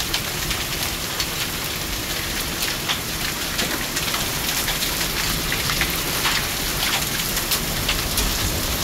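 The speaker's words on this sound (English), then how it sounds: "Those are golf ball size hail." Heavy golf-ball-size hail pours down near a rural road, a dense, steady roar of hard impacts with sharp individual cracks scattered throughout, loud and continuous with no voices.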